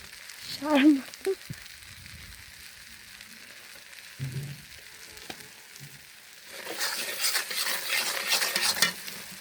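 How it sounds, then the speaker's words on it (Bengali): Whole spices, cinnamon, bay leaf and large black cardamom, frying in a pot for a Bengali beef curry, with scattered clinks and stirring early, then a steady loud sizzle building up over the last few seconds. "এখানে দিয়ে দিয়েছে লাল দারচিনি, তেজপাতা আর বড় যে কালো এলাচ যেটাকে বলে ওইগুলা।"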